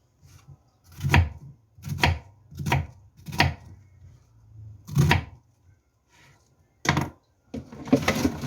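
Knife chopping onions on a cutting board for a chicken stew: several sharp, evenly spaced chops close by, short pauses between strokes, a final quicker burst of cuts, no talk.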